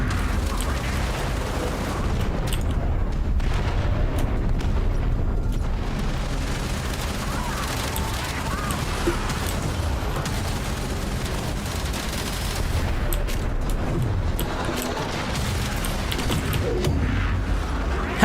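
Sustained heavy gunfire and booming blasts from Warframe roll on continuously, a dense loud barrage of shots and explosions mixed with game music and occasional voices.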